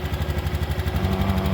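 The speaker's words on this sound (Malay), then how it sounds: "enjin telah running seperti biasa" A 2020 Honda BeAT 110cc scooter engine idles steadily up close after a CVT service, a low, even putter with a regular pulsing rhythm and no voices.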